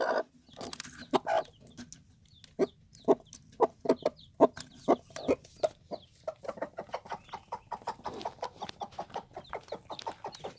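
A mother hen clucks softly and repeatedly beside her first newly hatched chicks, close by, the short clucks coming in irregular bursts with faint chick peeps mixed in.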